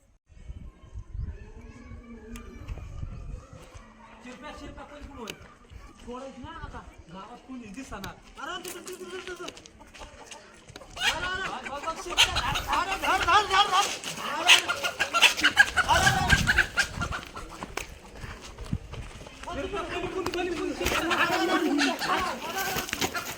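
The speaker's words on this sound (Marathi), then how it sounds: "अरे इथं तर लय कोंबड्या द्या" Chickens cluck repeatedly in short bursts while people talk over them, the clucking growing louder and busier partway through.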